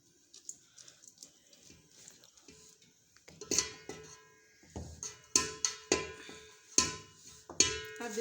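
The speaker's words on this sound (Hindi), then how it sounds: "ये बॉईल किए हुए चावल इसमें डालेंगे।" Boiled rice is spooned into a pot of fish biryani, bringing a series of sharp metallic clinks and scrapes of a utensil against the pot, growing louder and more frequent in the second half.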